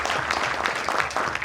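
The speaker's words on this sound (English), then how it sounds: "I found the audience which gives spontaneous claps right from first minute of our program." An audience at a national conference on social innovation breaks into spontaneous clapping, a dense, steady patter of many hands that fills the short moment without a break.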